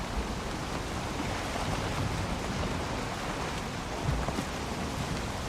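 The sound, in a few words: rainstorm in the video game Valheim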